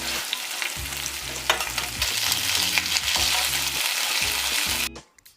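Fish pieces fry on a tawa griddle with a steady, loud, close sizzle and crackle that runs unbroken for about five seconds, then cuts off sharply into near quiet.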